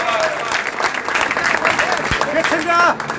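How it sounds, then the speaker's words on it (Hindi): An audience applauds a local village legislator at a welcome event, with dense clapping throughout, close and loud, while voices talk over it. "बहुत बहुत तालियां इनके लिए"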